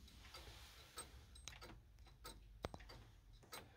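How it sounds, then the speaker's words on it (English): A large 19th-century exhibition table clock with automata, chiming on eight bells and a gong and unserviced for at least 50 years, ticks faintly and irregularly with scattered soft clicks in a quiet room. "it's ticking quite happily and it's running"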